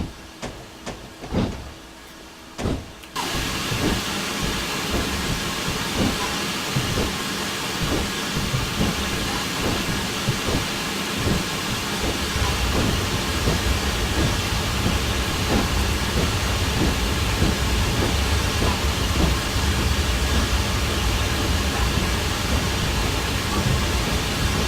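A Train Simulator 2015 locomotive on the Somerset to Dorset line rumbles continuously with a steady hissing, rolling drone that grows fuller after a short quieter opening with a few clicks.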